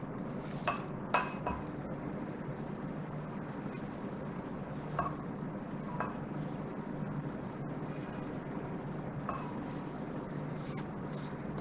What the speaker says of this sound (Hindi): अब मैं इसको निकालती हूँ डिश में, बॉल में निकाल रही हूँ इसको